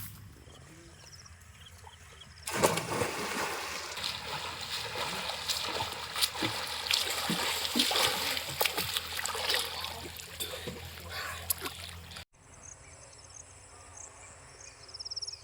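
Children bathe and splash in a village panchayat pond after rain, making a dense, continuous wash of splashing and churning water for about ten seconds. Insects chirp steadily in the background before and after.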